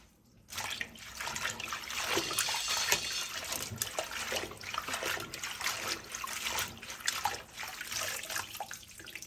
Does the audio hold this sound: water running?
yes